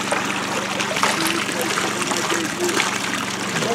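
Water trickles and splashes steadily through a geo sluice set up for gold prospecting in a national forest, a continuous close wash with a pump running underneath and a voice talking over it.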